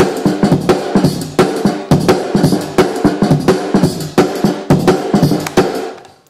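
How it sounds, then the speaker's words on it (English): A traditional drum and bass beat programmed in Toontrack Superior Drummer plays a fast, tight loop of punchy kicks, snappy snares and busy hi-hats, loud and close with no talking. "And so far the drum beat sounds like this."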